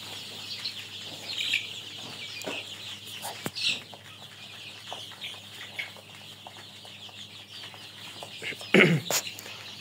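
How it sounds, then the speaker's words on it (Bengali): Sixteen-day-old chickens on a small farm cluck and peep softly in a scattered, continuous chorus, with occasional sharper calls and a louder squawk near the end. "আর এই মুরগিগুলা একটা আরেকটাকে টুকরা টুকরি করে প্রচন্ড"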